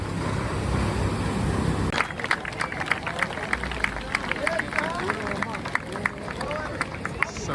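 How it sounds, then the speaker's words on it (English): A crowd on Copacabana beach in Rio de Janeiro claps for the sunset, scattered claps rising out of a broad outdoor hubbub of voices, mid-distance and continuous. "So everybody claps at the sunset"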